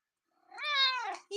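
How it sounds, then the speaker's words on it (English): A cat gives a single drawn-out vocalization close by, rising then fading over about a second, with a soft sound just after it ends. "you're going to be a purr box now?"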